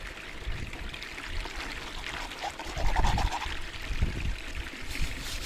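Material is scooped and poured into a gold cube sluice, producing a continuous close splashing and trickling of water with a few heavier pours and no talk.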